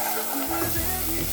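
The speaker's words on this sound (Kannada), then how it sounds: "ಸೊ ಈ ಥರ ಚೆನ್ನಾಗಿ ಸ್ವಲ್ಪ ಫ್ರೈ ಆಗಬೇಕು" Masala paste for mutton sukka fries in a pan with a dense, close sizzle, stirred as it cooks, loud and continuous throughout.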